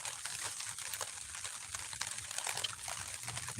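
Rain patters steadily and softly on a soggy campsite, a faint continuous hiss of droplets with scattered small taps and no voices.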